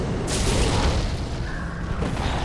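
A fire orb spell cast in Dark Souls III lands as a loud, close booming blast with a rumbling explosive burst, fading into a lingering low roar.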